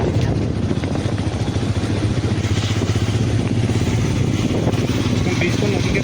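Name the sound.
motorcycle riding on mountain road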